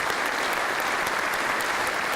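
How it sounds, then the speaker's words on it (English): An audience at the oath ceremony for a Springfield police commissioner applauds with steady, dense clapping throughout, heard from a slight distance, with no talk over it. "Let's give them a round of applause."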